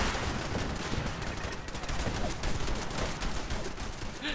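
Gunfire from settlement defence turrets in Fallout 4, heard as a relentless, fairly distant rattle of many overlapping rapid shots, a dense, even wall of fire with no pauses, faint and steady throughout.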